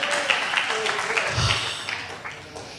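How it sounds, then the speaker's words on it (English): Audience at a live talk in Seal Beach clapping briefly, a scattered patter of claps that thins out toward the end, with talking over it. "Let's just clap on that one."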